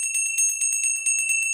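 A small bell, a little Glockerl, rings rapidly and continuously at a Viennese folk music livestream, its bright, high, metallic tones pulsing in quick repeated strikes, close and loud with no talking over it.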